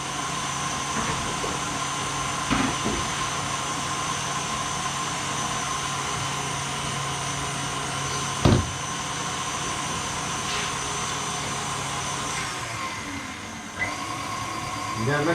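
Electric mixer working dough with a steady, continuous motor drone throughout, a few brief knocks over the hum, and a voice speaking faintly beneath.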